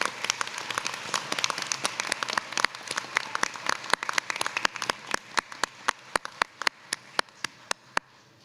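Graduates at a university commencement in San Francisco and Silicon Valley clap for their families, a dense patter of applause thinning out into a few sharp, scattered claps near the end.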